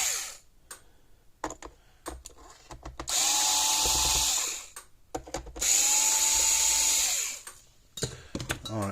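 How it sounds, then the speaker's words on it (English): A power screwdriver loosening screws from an older Tonka toy fire truck, with two sustained whirring runs of a few seconds each, close and fairly loud, separated by small handling clicks and taps. "I think I got all the screws loose"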